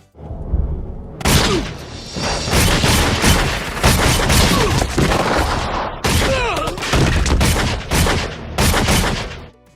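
Stainless and compensated Beretta 92FS pistols fire in a gunfight scene from the film Léon: The Professional. Rapid, loud volleys of sharp shots come in dense clusters, mixed with impacts and booms and only brief pauses.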